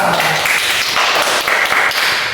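Classmates clapping for a student in a classroom, a dense burst of hand claps lasting a couple of seconds, fairly loud and close, with no talk over it.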